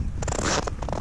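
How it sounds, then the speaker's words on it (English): Footsteps crunch and squeak on very cold, dry snow on a frozen lake, a few close, scraping steps in quick succession with faint wind behind. "the snow squeaks"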